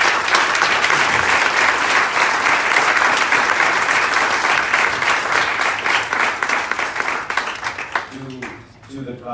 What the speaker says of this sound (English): she really deserves another round of applause from all of us